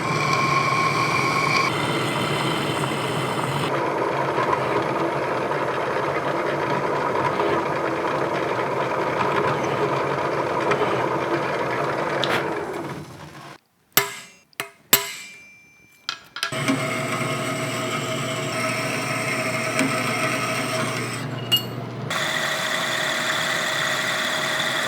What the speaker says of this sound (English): Let's go to the drill press.